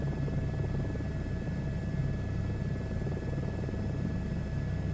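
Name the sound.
big helicopter flying in a VR video game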